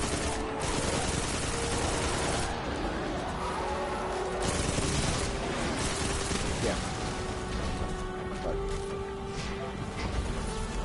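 Auto rifle fire in the video game Destiny 2, rapid automatic gunfire running under steady game noise and faint talk, moderately quiet overall.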